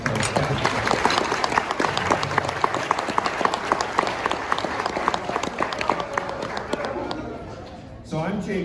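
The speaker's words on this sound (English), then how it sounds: "Let's have a round of applause for our scouts." An audience at a Boy Scouts of America Golden Doe Award ceremony claps for uniformed scouts. Dense, sharp hand claps run continuously, easing near the end before a brief renewed burst.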